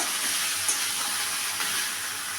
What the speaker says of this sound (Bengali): ওগুলো আমি দিয়ে দিলাম এবার ভালো করে এটার সঙ্গে একটু ভেজে নেব